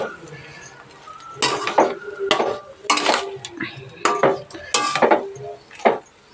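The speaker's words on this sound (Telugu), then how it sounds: "దీంట్లో రైస్ వేసి కలుపుకుందాం." A spoon stirs cooked rice into a lemon rice (nimmakaya pulihora) mixture in a metal pan, making irregular scraping clanks and clinks in close bursts.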